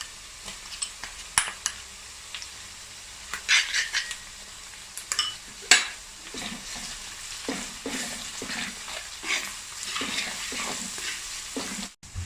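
Garlic-ginger paste frying with onions in a pan for a prawn idiyappam biriyani, a steady close sizzle broken by scraping stirs and occasional sharp utensil clinks, with no talking.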